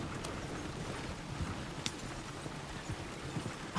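Horse hooves clip-clopping along a road in Red Dead Redemption 2, a soft, steady trotting rhythm heard at a moderate distance under a low rumbling background, with no speech.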